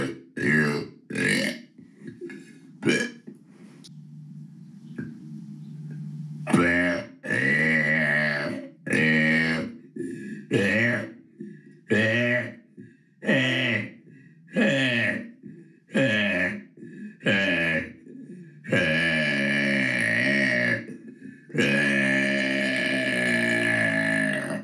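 A long string of repeated burps after a bacon breakfast, loud and close, arriving in quick irregular bursts over many seconds with short pauses between them and no talking.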